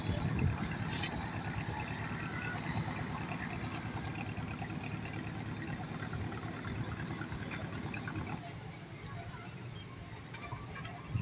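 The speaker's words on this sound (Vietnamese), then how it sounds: "Và đây là có một chiếc ghe nè," A boat carrying dried coconut passes along the Chợ Gạo canal, its engine a steady mid-level drone blended with water and background noise throughout.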